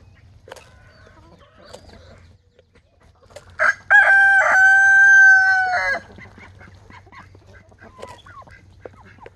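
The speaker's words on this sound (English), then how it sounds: "Oh, Jimmy, that's just a goose, man." A goose gives one loud, drawn-out honking call lasting about two seconds, close by and alone, with faint rustling and scattered small sounds before and after it.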